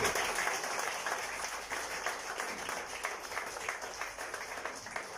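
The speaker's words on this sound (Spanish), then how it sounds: "Le damos un aplauso al Señor" A church congregation applauds during a service, a continuous wash of many hands clapping, fairly distant and quiet, steady throughout with no talk over it.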